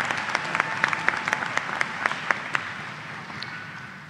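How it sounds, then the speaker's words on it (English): An audience at a spring university commencement for business and nursing graduates applauds its doctoral and master's students, a full crowd clapping with a few sharp nearby claps standing out before the applause thins toward the end. "let's give our doctoral and master's students a round of applause"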